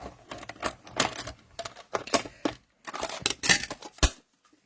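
A compact cut and emboss mini die cutting machine rolls a mask plate through, giving a series of close, dry clicking and crunching bursts with short pauses, ending in a sharp final snap.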